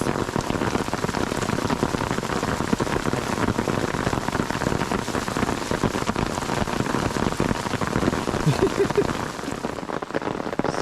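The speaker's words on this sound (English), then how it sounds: "and it started hailing again." Dense, steady patter of hail pelting the ground on the Colorado Trail, continuous and fairly loud throughout, with no voices.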